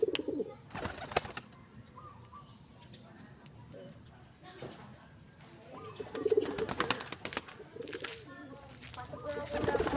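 Pigeons coo in soft, repeated bursts close by, mixed with wing flaps and shuffling, while a voice is heard now and then.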